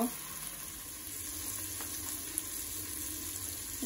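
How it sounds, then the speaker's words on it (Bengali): Food frying and being stirred in a pan before eggs are added, a steady soft sizzle with faint scraping, near and continuous with no talk over it. "একটু একটু নেড়ে চেড়ে দিচ্ছি"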